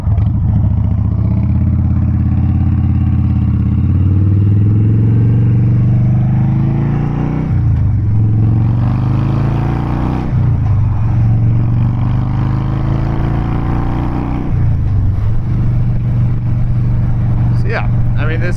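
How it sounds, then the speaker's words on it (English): Harley-Davidson Dyna Wide Glide accelerating on the road, a loud close engine rising in pitch through repeated gear shifts, each shift dropping the note before it climbs again, with wind roar and a rider talking over it. "This bike's got plenty of pickup"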